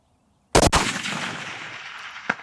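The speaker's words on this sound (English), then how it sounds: "As I squeezed on that trigger, the rifle moves to the right." A single loud rifle gunshot fired while hunting, a sharp close crack followed by a rolling echo that decays over about two seconds, with a faint click near the end.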